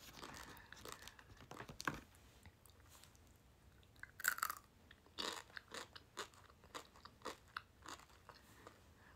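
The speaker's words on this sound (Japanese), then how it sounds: "なんかパリパリしてるんだけどこのこういう感じ中がこれグミになってるの" Crunchy-shelled Gummitzel gummy candy is bitten and chewed close up, with sharp crackling crunches followed by a run of softer rhythmic chewing sounds and no talking.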